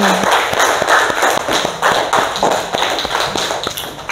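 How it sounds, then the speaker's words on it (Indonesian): Classroom applause for a student named Marvin in a junior high social studies lesson, a small group of close, sharp claps with distinct individual slaps and a loose, uneven rhythm, loud and steady throughout. "Tepuk tangan untuk Marvin."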